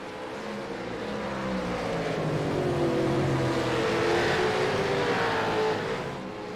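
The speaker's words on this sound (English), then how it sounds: "you could hear the wheels spin from both cars" V8 ESC race cars powering out of a hairpin at the Long Beach street circuit, wheels spinning, a steady loud engine roar that swells and holds for several seconds with no talk.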